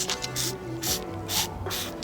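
Spray bottle spritzing water onto window tint film as it is peeled back on a BMW 1 Series, four quick close pumps in a steady rhythm with hissy bursts and a ratcheting trigger click.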